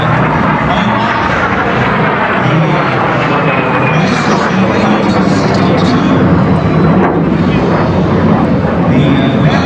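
A de Havilland Vampire, an early jet first flown in 1943, flies at a Sun n' Fun air show demonstration, producing a loud, steady engine roar that swells slightly as it passes.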